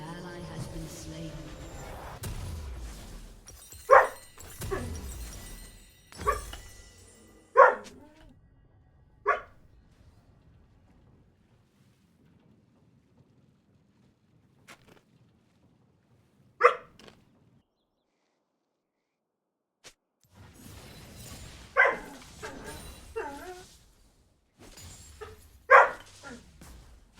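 Several dogs bark in scattered single and double woofs over a long stretch, some loud and near, with people talking over and around them.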